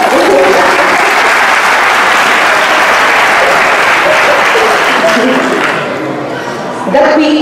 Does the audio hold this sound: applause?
yes